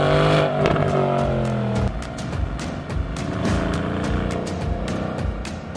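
A 2018 Mercedes-AMG GLC 63S with a 4-litre biturbo V8 and AMG 9-speed sports transmission pulls hard. The loud, close engine note climbs, drops briefly at a gear change, then keeps accelerating with a throaty roar.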